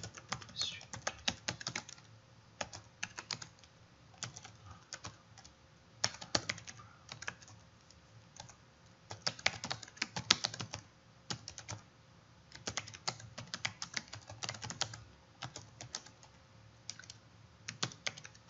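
Rapid, uneven key clicks come from someone typing on a computer keyboard in Microsoft Word, in bursts with short pauses, close and fairly quiet.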